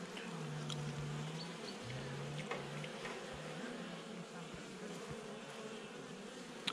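A brood-free honeybee colony hums steadily during a November hive inspection, with individual bees buzzing and droning past at varying pitch, close and continuous.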